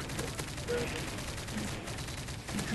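Rapid gunfire from a multiplayer shooter video game crackles steadily through the whole stretch, dense and continuous bursts with no clear pauses, fairly loud and close.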